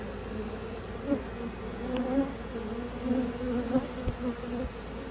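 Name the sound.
honeybees buzzing around hive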